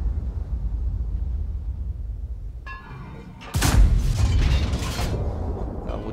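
A tank gun fires in World of Tanks, a sudden loud boom that cuts in over a low engine rumble, then leaves a rumbling, crackling tail over several seconds.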